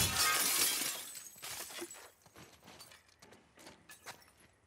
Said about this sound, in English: Why is shattering glass always so satisfying?